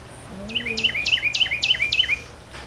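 Small birds at Disney's Animal Kingdom chirp loudly and close by in a quick, repeating series of bright, sharp tweets lasting a couple of seconds, heard alone without talk.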